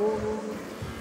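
Car drifting in the video game Car For Sale Simulator 2023, a steady engine drone with tonal whine and rumbling low end, continuous and fairly loud for about a second with no talk.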